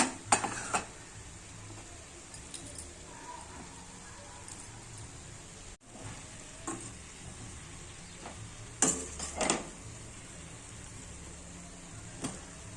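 Tomatoes being stirred into a broad bean curry in a pan, with intermittent clinks and scrapes of a spoon against metal over a soft background sizzle, a few louder knocks near the end.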